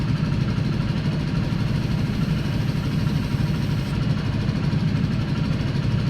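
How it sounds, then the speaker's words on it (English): A Yerf Dog go-kart engine runs steadily, a loud, close, continuous buzzing drone with an even throb and no talking. "I wanted to come out here and start the engines"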